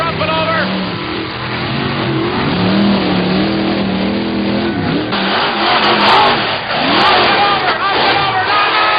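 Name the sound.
monster truck engine revving during race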